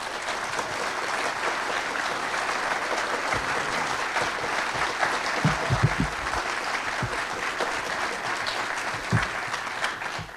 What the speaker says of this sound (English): please give a warm round of applause to Mark Phillips and Kathy O'Brien